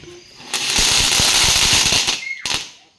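A loud crackling burst of Diwali firecrackers rattles off in rapid pops for about two seconds, then a sharp final bang and quiet.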